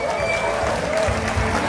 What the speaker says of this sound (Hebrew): קבלו במחיאות כפיים ו'1.